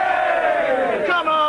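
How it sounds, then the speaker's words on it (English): Group of people in a 1980s British pub scene giving a single short hearty cheer together, loud and close, lasting about a second and a half. "Three cheers for Mr. Sugden."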